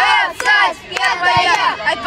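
Loud, excited cheering and shouting from young sports fans at a city children's summer camp sports tournament, bursts of voices rising and falling close by.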